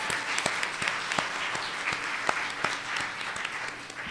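Applause from an audience for youth contestants at an MLK oratorical contest, steady dense clapping with sharp individual claps popping out, continuous and fairly close throughout.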